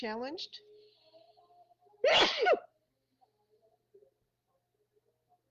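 A single sharp, close sneeze bursts out loudly in the middle of a quiet stretch, after a short spoken phrase, then fades into near silence.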